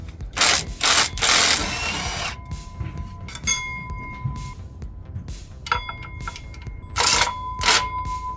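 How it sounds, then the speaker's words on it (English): A power tool removes the water pump bolts on a 2007–2013 Chevrolet Silverado 1500 with the 5.3L engine, sounding as loud, close whirring bursts separated by short pauses and mechanical clicks. "I'm using a power tool, but this is not necessary."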